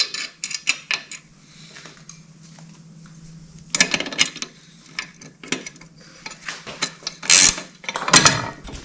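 Ratchet tightening a handlebar bolt on a Suzuki LTR450 ATV fitted with ODI handlebars, heard as bursts of quick clicking strokes in several short runs over a low steady hum, close by.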